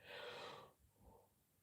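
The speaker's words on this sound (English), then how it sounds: "I'm going to yawn again." A person yawning close to the mic, a long breathy exhale that trails off into a softer, shorter breath, quiet and alone.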